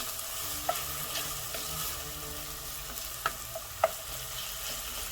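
Ground beef frying with garlic and onion for Greek moussaka hisses steadily in a hot pan, with a few sharp spatula clicks and scrapes as it is stirred, and no one speaking.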